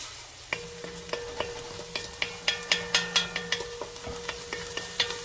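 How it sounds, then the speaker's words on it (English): Chicken pieces sauteing in a pan, a gentle sizzle under a quick series of crisp spatula clicks and scrapes against the pan, close and alone. "we'll let those saute and get some color on them"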